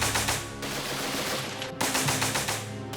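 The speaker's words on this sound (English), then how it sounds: "Maxim gunners sweep the battlefield from side to side" Maxim machine gun on a battlefield firing in sustained rapid bursts, loud and dense, with a brief break near the middle before the chatter of rounds resumes, no voices.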